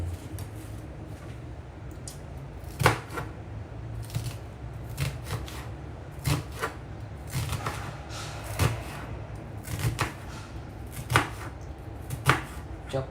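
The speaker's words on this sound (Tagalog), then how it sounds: "Chop tayo ng sibuyas." Knife chopping onion on a board for adobong sitaw at talong, a series of sharp, irregular thuds and clacks spaced a second or so apart, close up, over steady low background hum and no talk.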